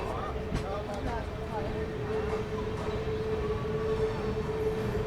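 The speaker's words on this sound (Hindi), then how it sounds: "चलिए अपनी ट्रेन का बांदी कुई जंक्शन से डिपार्चर" Amrit Bharat Express train pulling out of Bandikui Junction, a steady rumble with a sustained hum that holds throughout, with faint station noise and a voice talking over it.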